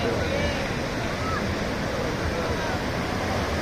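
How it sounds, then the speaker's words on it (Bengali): Night surf on the beach at Cox's Bazar makes a constant heavy roar of breaking waves, a thick, unbroken rush with a voice faintly over it. "দেখুন সাগরের কি পরিমাণ গর্জন।"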